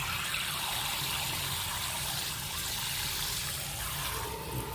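Cold water runs steadily from a kitchen tap into a pot, a continuous close splashing stream with no talk over it.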